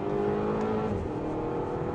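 Audi TT exhaust revving through an S-tronic dual-clutch gearbox, a close, sustained engine note with a smooth rise and slight waver over a couple of seconds.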